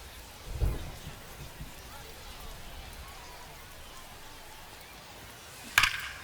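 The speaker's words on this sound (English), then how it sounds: "the rain's still a factor here, and the umpires may have their hand forced sooner than later" Rain and thunder in the MLB 25 baseball video game during a rainy ballgame, a faint steady hiss of rainfall with two brief louder bursts, one early and one near the end.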